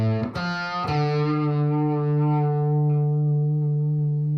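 Distorted electric guitar playing a classic rock riff: two sharp picked attacks, then one long sustained note with a slow wavering vibrato, loud and close, ringing out alone.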